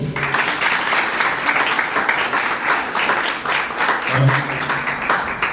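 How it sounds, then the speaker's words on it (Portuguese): Audience applause at a tourism industry event, steady and dense clapping from a large crowd filling the whole stretch, with a brief low voice murmuring underneath. "Aplausos para ele."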